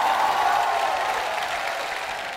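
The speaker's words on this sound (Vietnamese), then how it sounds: "Cho em chàng vỗ tay đi quý vị khán giả." Studio audience applause on a Vietnamese comedy show, a steady, dense wash of many hands clapping that holds evenly and tapers slightly toward the end, with no voices on top.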